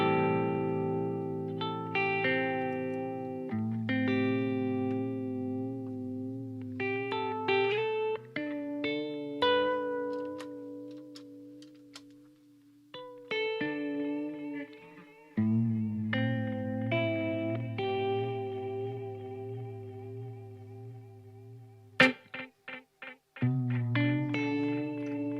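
Electric guitar through a Boss GT-1000 Core multi-effects unit with vibrato modulation and reverb switched off, a long run of picked notes and chords with pitch wobble, dry and close, with brief pauses and a sharp click near the end.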